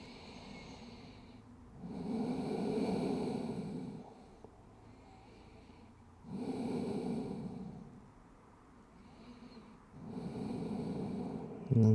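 Slow, deep breaths during a yoga session, three long drawn-out exhales spaced by quiet pauses, close and fairly soft with no talking.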